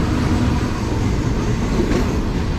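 The Hazara Express, train 11 Up/12 Down, runs on the Lala Musa junction branch line toward Sargodha, a loud, continuous rumble of wheels and carriages with a faint clickety-clack throughout.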